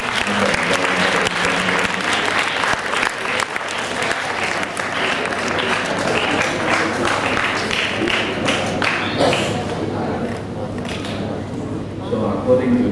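An audience at a school graduation ceremony claps vigorously, a loud, dense burst of applause that thins and fades toward the end, with a few voices speaking through it.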